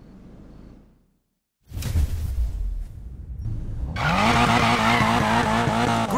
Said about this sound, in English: Lighting up those tires is a piece of cake.